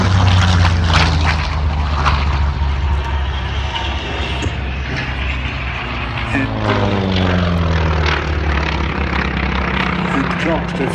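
Avenger propeller aircraft in flight at an air display, a steady loud engine drone with harmonic hum and a slowly shifting pitch as it passes, over broad wind and crowd noise.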